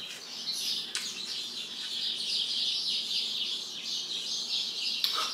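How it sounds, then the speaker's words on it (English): Birds chirp steadily outdoors, a dense high twittering chorus from several birds filling the whole stretch at moderate distance, with no talk. "The birds are going crazy outside."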